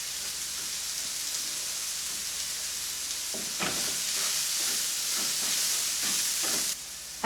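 Cumin cooking in a little hot oil in a pan, a soft, steady sizzle and hiss that thickens midway with brief scraping touches, no talking.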